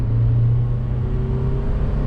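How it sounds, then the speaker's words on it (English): A 2019 Toyota 4Runner TRD Pro accelerates on the highway, its engine giving a steady low droning hum with a rising tone, heard from inside the cabin over road noise. "Engine pulls all the way through the power band"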